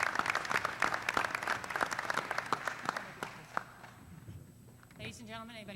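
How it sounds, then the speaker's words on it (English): An audience at a school board meeting applauds in a steady patter of clapping that fades out after a few seconds, followed by quiet room noise and a brief voice. "a round of applause for not only this fine 1982 student, but Mr. Charles Bailey."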